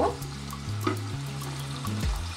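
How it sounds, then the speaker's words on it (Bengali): Spices added to hot oil with fried shrimp, for a shrimp curry with dhundul, a steady close sizzle with stirring clinks and scraping throughout. "এই পর্যায়ে মশলাগুলো দিয়ে দেব"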